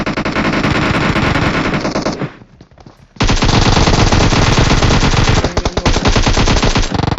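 Rapid continuous automatic gunfire from the mobile game PUBG Mobile, loud and dense, breaking off briefly for a quiet second before resuming in long sustained bursts.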